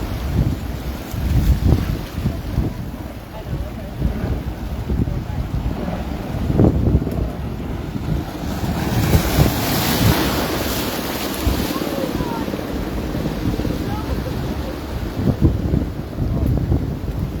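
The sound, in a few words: ocean waves and wind off Oahu, Hawaii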